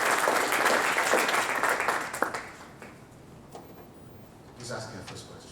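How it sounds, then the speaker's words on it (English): An audience claps after a talk at a crystal analyser laboratory. The burst is loud and dense for about two seconds, then thins to a few scattered claps, and a voice speaks briefly near the end. "A big round of applause"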